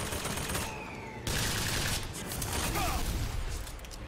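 A turret in BioShock Infinite: Burial at Sea sprays sustained automatic fire, a dense loud rattling barrage that continues without pause amid game noise and clatter.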